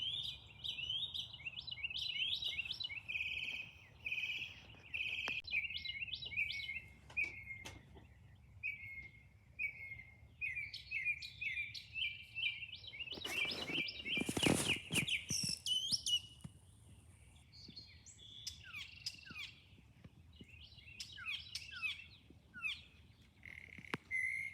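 Many birds chirp in a backyard in the morning, with faint, far-off repeated tweets and trills, a busier burst of calls midway, and a soft background hum, with no voices.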